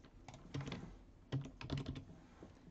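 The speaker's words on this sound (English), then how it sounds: "you're going to type in the name of the affiliate" Typing on a computer keyboard while entering an affiliate name into a software form: two quick bursts of close, crisp key clicks separated by a short pause, with no talking.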